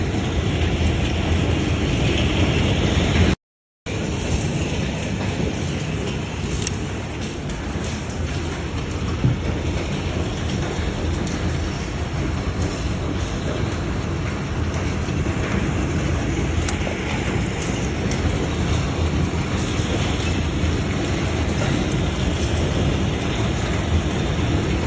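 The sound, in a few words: heavy hailstorm in Islamabad, large hailstones falling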